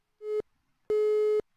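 A dropped caller's telephone line on a French radio call-in show gives busy-signal tones, one short beep then a longer one, clean and steady with silence between.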